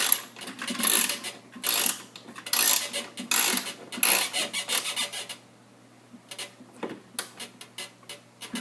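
A ratchet tightens window regulator bolts inside the door of a 1999-2005 Pontiac Grand Am, with close rhythmic rasping clicks in short repeated bursts, then quieter scattered ticks.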